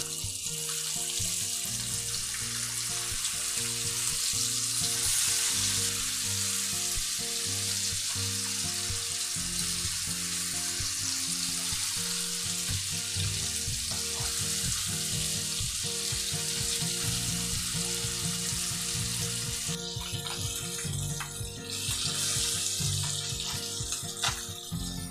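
Marinated Katla fish pieces fry in hot oil in a pan, a steady, loud, continuous sizzle and crackle that carries on throughout with a few brief clinks from the pan, and no talking.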